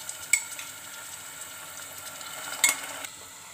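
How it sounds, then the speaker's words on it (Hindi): Marinated meat sizzles softly in hot oil with onions, with a couple of sharp scraping clinks as it is stirred in a pot, fairly quiet and close with no talking. "इसे हम ऑयल में डाल के अच्छे से मिक्स करेंगे।"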